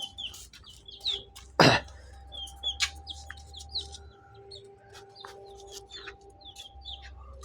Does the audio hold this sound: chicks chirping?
yes